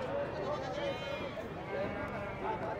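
Sheep bleat at Chengicherla wholesale mutton market in Hyderabad, with wavering, overlapping cries from small and large animals packed close together, and market crowd noise continuing underneath.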